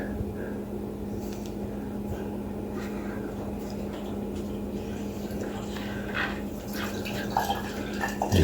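Water heater emptying through a hose attached to its drain nozzle, a steady continuous rush and trickle of flowing water with a constant low hum beneath, moderately close and unbroken, with a few small clinks near the end.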